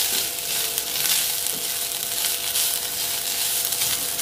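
Fresh grated coconut roasts in a pan with a steady, close crackling sizzle and faint scraping, with no voices.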